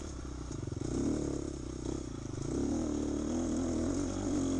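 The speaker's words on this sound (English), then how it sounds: "like this hill here, like this is why I wanted the 4-stroke. It just chugs up it." A four-stroke dirt bike chugs up a hill during a hare scramble race, its engine a loud, steady low thump with clattering, close and continuous throughout.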